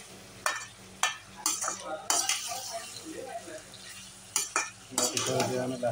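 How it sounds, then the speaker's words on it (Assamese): Duck meat frying in a pan with a steady low sizzle, broken by sharp scrapes and clinks of a spatula stirring every second or so. "হাঁহৰ মাংসটো ভাজি থাকিব, যিমান পাৰে ভাজিব হাঁহৰ মাংসটো"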